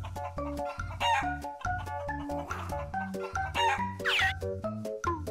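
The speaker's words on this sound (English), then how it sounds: "Chicken." A chicken crows and clucks in short bursts layered over a bouncy, repeating musical backing track, with a louder squawk near the end.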